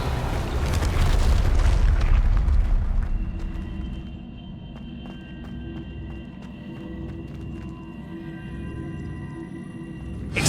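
Casting the Revelio spell in Hogwarts Legacy unleashes a loud, booming magical whoosh with a deep rumble that fades over several seconds into a shimmering, ringing tail.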